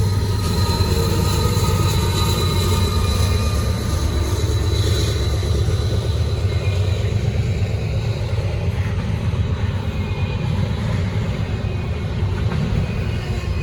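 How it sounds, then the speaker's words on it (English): A Norfolk Southern freight train on the Charlotte District, with DPU locomotive 4774 working hard among three locomotives, rumbles past close by in a loud, steady roar of engines and rolling wagons. "Well, this is your DPU right here, 4774, doing all the work."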